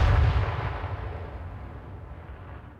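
Heavy gunfire and explosions erupt in a competitive Halo 3 match, opening with a loud booming blast that rolls off into a fading rumble.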